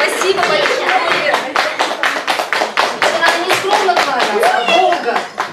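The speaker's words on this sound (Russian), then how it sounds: "а вы долго хлопайте" An audience claps after a domra trio performance, producing a loud, close run of rhythmic handclaps that continues steadily, with voices heard among the claps.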